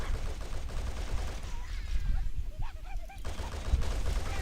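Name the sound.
gunfire against elites in video game Halo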